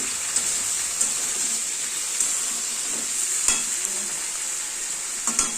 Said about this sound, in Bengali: এবার সবজিগুলো ভাজা ভাজা করবো